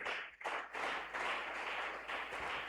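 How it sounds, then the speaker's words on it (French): A church congregation at a prayer service claps together in a dense, continuous burst of applause, fairly faint and slightly distant, with a brief dip near the start and no speech over it. "Est-ce que tu peux acclamer très fort pour la gloire de Jésus?"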